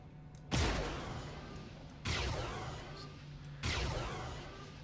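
Ship cannons fire in Star Citizen: three heavy booming shots at an even pace, each loud at the start and then fading into a long rumbling tail over a steady low hum.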